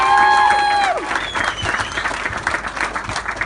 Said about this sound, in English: So another big round of applause please for the parents of Dan and the parents of Zaina.